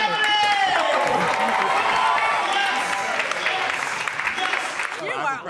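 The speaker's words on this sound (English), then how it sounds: "So give them a big old round of applause." Studio audience applauding and cheering on a live daytime TV morning show set, a loud sustained crowd wash with bright tonal music layered over it throughout.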